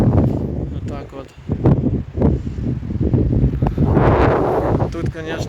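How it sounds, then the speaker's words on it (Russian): Strong wind from an evening thunderstorm roars and buffets the microphone in heavy, fluctuating gusts, while someone speaks throughout. "Короче, поднялся сильный ветер."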